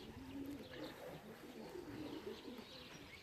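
Racing pigeons back at the loft after a 133 km race from Kalvarija coo faintly and steadily, with soft chirps over a quiet, hazy background.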